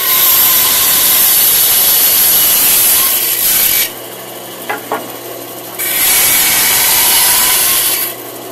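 A band saw fitted with a 3/4 inch resaw blade runs in a workshop, a loud steady whirring hum that cuts off, leaves a quiet gap with a couple of clicks, then starts up again.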